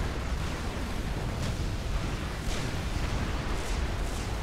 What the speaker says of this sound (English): Those tactical missile launchers are shooting right at the ACU.